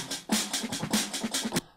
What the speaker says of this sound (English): A jungle beat